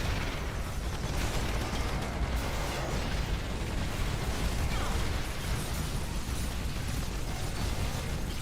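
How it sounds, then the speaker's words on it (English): A tank blowing up in the game EDF: Insect Armageddon, heard as a dense, continuous roar of blasts and crackling debris that fills the whole stretch at a steady loud level. "Tank's gonna blow."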